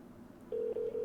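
Touch-tone phone dialing in the video game No Customers Left: a few steady, clear keypad tones in quick succession after a brief quiet stretch, loud and close.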